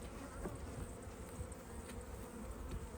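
Honey bees hum in a dense, steady drone from an open hive during a mite treatment, a close continuous buzz with no talking.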